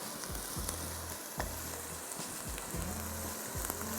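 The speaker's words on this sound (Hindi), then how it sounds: "थोड़ा सा आपने इसको फ्राई करना है" Schezwan chicken frying in a pan with a steady, close sizzle and crackle, brief stirring knocks and scrapes recurring throughout.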